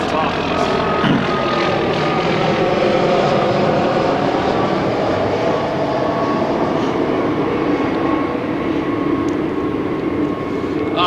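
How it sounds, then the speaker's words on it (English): A helicopter passes overhead near a 1971 Piper Super Cub on an airfield, a loud, steady broadband rotor-and-engine roar that holds for the whole stretch with no clear fade. "I'll let this helicopter get over top of this."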